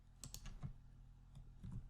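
Quiet typing on a computer keyboard while working in an Excel spreadsheet, a few soft key clicks in small clusters with brief pauses between them.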